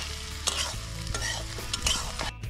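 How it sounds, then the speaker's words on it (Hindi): Mutton frying crisp in a pan at a forest campsite gives a close, busy sizzle with repeated clattering stirs and scrapes and a low rumble underneath. "इतना मटन के लिए रखते थे, वो पूरा क्रिस्पी फ्राई करेंगे"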